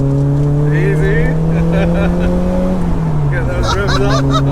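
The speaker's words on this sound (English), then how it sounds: "Get those revs up." Engine of a 1990s performance car with a limited-slip differential, heard from inside as it drives out of a roundabout corner, a steady droning tone rising slightly while a voice talks over it.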